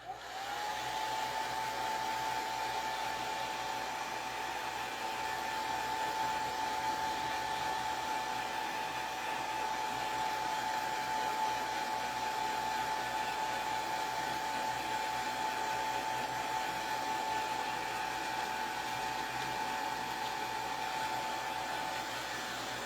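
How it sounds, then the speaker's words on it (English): A hair dryer blows steadily and close up, one unbroken whirring hum with a high whine, no voices. "I'm trying to be careful not to put the blow dryer onto the"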